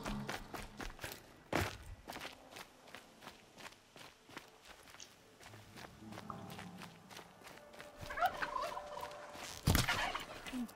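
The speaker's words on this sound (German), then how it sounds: "Ein bisschen Pute." A turkey gobbles in the video game Horizon Zero Dawn amid footsteps, rustling and game effects, with a louder burst near the end.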